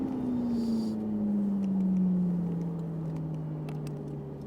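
A Ferrari 458 Italia on a race track eases off the throttle, its engine drone falling in pitch as it slows, steady and fairly close, with a few faint ticks and no talking.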